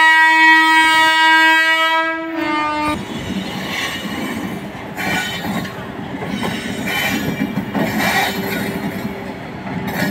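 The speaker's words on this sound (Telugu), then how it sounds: "This train goods Bandi." A goods train passing near Vijayawada in Krishna Lanka sounds a long, loud horn blast, followed by the steady rumble, squeal and clatter of its wagons rolling close by.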